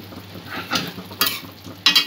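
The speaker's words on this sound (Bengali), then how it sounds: "কিছুক্ষণ পর পর এই কারিটা একটু নাড়া দিতে হবে, নাহলে ভাতটা করার সঙ্গে আটকে যেতে পারে।" Spoon scrapes and stirs chaal potol, a thick pointed-gourd and rice curry, in a pan over medium-low heat, with a soft sizzle beneath a few distinct louder scrapes.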